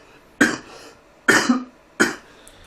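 Three sharp coughs from a podcast host who is a little ill, close and dry, evenly spaced with short silences between them.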